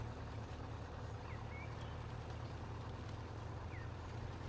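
SnowRunner truck pulling an empty water trailer, a steady low engine rumble droning continuously at an even level with no speech, a few faint high chirps over the top.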